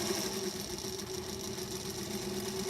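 A sewing machine stitches a quilt with a steady, even mechanical whir that runs unbroken and fairly quiet throughout, with no voices.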